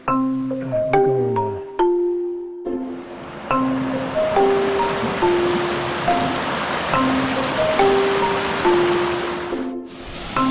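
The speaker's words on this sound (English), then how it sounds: "Yet another stream crossing" Rushing water of a mountain stream at a trail crossing on the Stone Creek Trail near Cone Peak, storm-swollen after heavy weather, a steady broadband wash heard close and loud throughout, with melodic tones ringing out over the first seconds.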